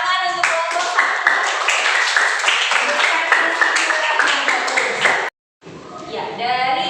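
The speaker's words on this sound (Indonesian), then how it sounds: "tepuk tangan untuk kelompok 1." A school class claps for a group of classmates in a classroom, the claps coming in a steady beat under loud chanting voices, then a brief silence before the voices return.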